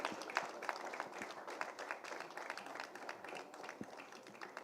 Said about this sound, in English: A big round of applause to the first speaker